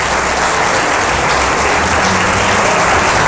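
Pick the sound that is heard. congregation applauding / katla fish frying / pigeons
congregation applauding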